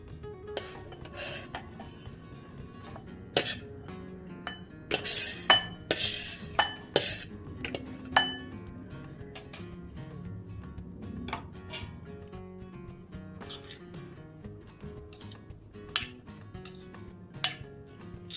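Thinly sliced green chilies are stirred into cut lemons for pickle in a bowl, giving scattered clinks and scrapes of a spoon against the dish with brief louder knocks, close by and with no talking.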